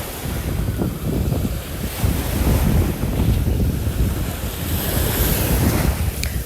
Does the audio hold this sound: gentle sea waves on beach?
yes